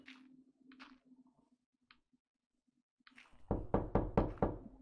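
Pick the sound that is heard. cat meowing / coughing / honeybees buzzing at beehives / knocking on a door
knocking on a door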